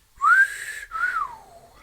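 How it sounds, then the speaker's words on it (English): A man whistles two short rising-and-falling notes, the first sliding upward and the second gliding down, close and clear with no talking. "He sat down and whistled."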